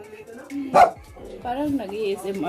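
A pet dog barks once or twice, sharp and fairly close, amid people talking during a meal at home.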